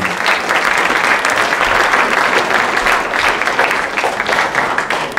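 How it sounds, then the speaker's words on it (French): Dense, steady audience applause fills a film awards evening at the 8th Lumexplore festival, a loud continuous wash of many hands clapping from start to finish with no talk over it. "on peut les applaudir"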